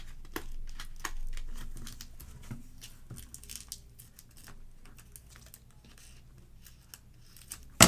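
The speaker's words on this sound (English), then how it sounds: "Now, I'm going to cut a little bit of this off." Scissors snipping paper while making a slit pocket for a mini album, with quiet scattered crisp cuts and rustles close by and a louder snap at the very end.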